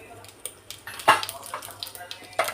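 Cumin and mustard seeds spluttering in hot ghee and oil, scattered sharp pops and crackles in quick irregular bursts, close, with a voice speaking over them.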